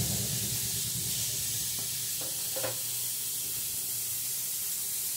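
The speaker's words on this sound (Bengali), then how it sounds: "কড়াইতে সর্ষের তেল দিয়ে পার্শে মাছগুলো ভেজে নেব।" Parshe fish frying in mustard oil in a wok, giving a steady close sizzle and hiss throughout, with a few faint clinks partway through and no talking.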